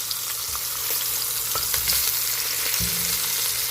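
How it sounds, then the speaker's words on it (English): Beef short ribs searing in a hot pan, a continuous loud sizzle and crackle close up, with a brief stir or flip partway through. "So as I turn, you see we have a nice sear on there, nice texture as well."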